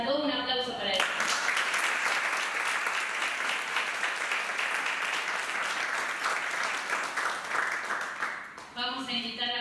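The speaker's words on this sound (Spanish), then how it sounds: "Un aplauso para ellos." A crowd at a bioethics conference applauds loudly and continuously for several seconds, with a voice heard briefly at the start and end.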